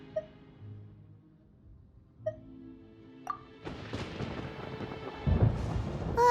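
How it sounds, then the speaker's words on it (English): Thunder in Genshin Impact during a storm in Sumeru: a few quiet tonal chimes, then a rolling rumble that swells into a heavy, crashing roar near the end. "Paimon used thunder!"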